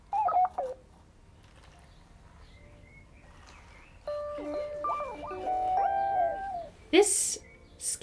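Sony Aibo ERS-7M1 robot dog lets out a scared sound, a run of wavering electronic tones and chirps rising and falling for a few seconds, followed by a sharp bright burst, with brief talk early on.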